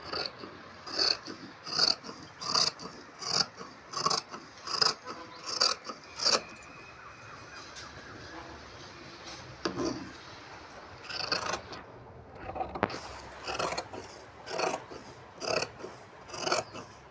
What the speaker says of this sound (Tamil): இப்போ நான் பேக் பின்னாடி உள்ளதை நான் வெட்டிக்கிறேன்.